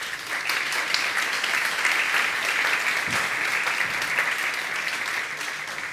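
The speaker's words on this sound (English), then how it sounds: "So please, an applause for them." An audience applauds the startups about to pitch on the demo stage at the South Summit 2023 conference. The clapping is full and steady for the whole stretch, holding at an even loudness without any speech over it.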